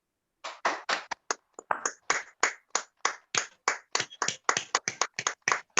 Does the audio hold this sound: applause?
yes